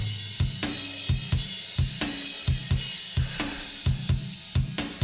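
Dry, unprocessed home-recorded drum kit playing a steady groove, with thuddy kick and snare hits and washy cymbals, sounding roomy and somewhat thin.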